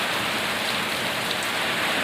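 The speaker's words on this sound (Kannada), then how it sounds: "ಮಳೆ ಅಂತೂ ಕಂಡಾಪಟ್ಟಿ ಬರಕತ್ತದ್ರಿ" Heavy rain with wind pours down on a village farm in a steady, dense hiss, loud and unbroken.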